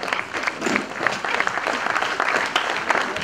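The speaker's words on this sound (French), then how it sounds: "je tiens à ce qu'on applaudisse le CPF 33" Audience applauding the CPF 33 association at a civic ceremony, a steady dense burst of clapping from many hands, fairly loud and close, with no voices over it.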